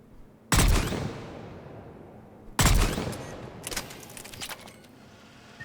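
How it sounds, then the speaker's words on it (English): Valkyrie rifle bursts in the video game Mass Effect 3 come as two loud, close bursts a couple of seconds apart, each fading into a trailing rumble, followed by fainter rapid shots. "we fired a lot of bursts"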